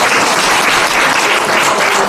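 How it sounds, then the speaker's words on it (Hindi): Loud, dense applause from a large audience fills the space, sustained and steady with no voices over it. "जोरदार ताली दीदी आप लोग"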